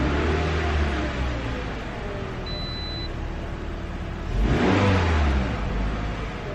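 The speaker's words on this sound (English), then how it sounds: "You see, when you rev it up and drop it, it drops to 1500" A 2013-2018 Toyota RAV4 with a mass air flow sensor fault idles roughly, then its engine is revved in a short burst that swells loudly before dropping back to a steady, uneven idle.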